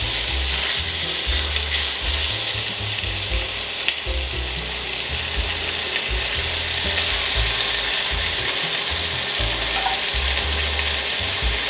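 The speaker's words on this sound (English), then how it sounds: "add these chunks of meat into the pan and sear" Chunks of pork searing in a hot pan, a loud, steady, close sizzle that holds evenly for several seconds with faint crackles and no voices.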